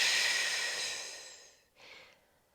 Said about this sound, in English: take a deep breath in. Exhale through the mouth